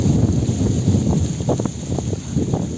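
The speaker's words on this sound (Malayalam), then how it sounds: "നല്ല കാറ്റ് പോകുന്നുണ്ട്." Strong wind sweeping over a hilltop near the Palkulamedu mountain, a steady, fairly loud rush of broadband buffeting with gusty swells against the microphone, and no voices.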